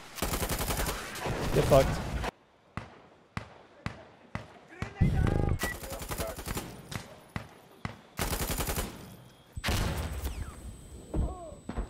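Machine gun fire from Insurgency: Sandstorm comes in several sharp separate bursts with short pauses between them, loud and close, while a player talks and swears in between.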